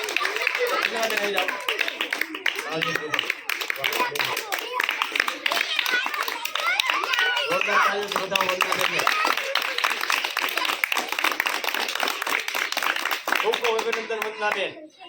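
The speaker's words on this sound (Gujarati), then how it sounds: "જોરદાર તાળી બતાવો." Primary school students in a classroom clap loudly and rapidly in dense, continuous bursts that last the whole stretch, with children's voices calling out over the clapping.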